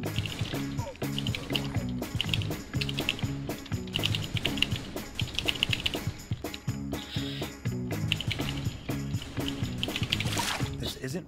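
Rapid keyboard typing clatters on and off while playing the video game Typing of the Dead, close and busy, mixed with game sounds and someone talking over it.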